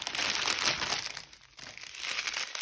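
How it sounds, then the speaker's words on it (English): Sticky plastic packaging from a small-business mail order crinkles and crunches steadily up close as it is pulled open, with a brief lull midway before the crackling resumes. "I'm sorry for all the crinkling."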